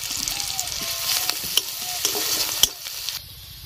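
Chopped onion, five slit chillies and two bay leaves fry in oil with a bright, close sizzle and scattered sharp crackles and pops, fading to a quieter hiss in the final half-second.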